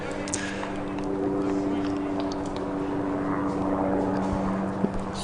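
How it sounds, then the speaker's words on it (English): Helicopter hovering over a county cricket ground, a steady droning rotor hum throughout with faint crowd and ground ambience beneath. "Hovering helicopter still with us."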